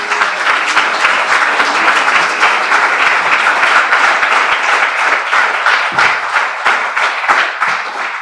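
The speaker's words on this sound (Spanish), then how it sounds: "denle una ofrenda de palmas a Dios y terminamos" A church congregation applauds as an offering of praise to God at the close of a sermon, dense sustained clapping filling the room steadily for the whole stretch without letting up.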